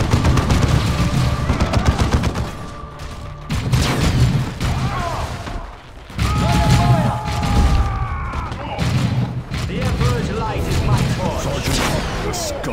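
Gunfire and blasts from a Dawn of War II battle against traitor forces rumble through the clip in dense, repeated bursts, while spoken voices run over the fighting throughout.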